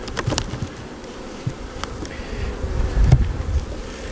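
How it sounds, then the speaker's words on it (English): Bees buzz around an opened hive box in a low, steady drone up close, with occasional sharper passes and faint clicks and taps nearby; no talking. "There's a few bees. They're doing their thing, whatever."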